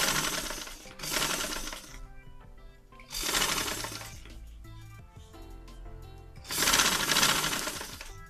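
A sewing machine stitches along a marked line on a ruffled dress, running in three loud rapid whirring bursts with quieter mechanical clicks and ticks between them, close by and alone.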